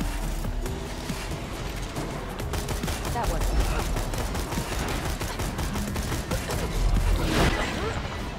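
Dense, continuous gunfire from Borderlands 2, shooting heard in the Fight For Your Life arena, with rapid overlapping shots and impacts at steady loudness throughout, while players' voices sit under the battle.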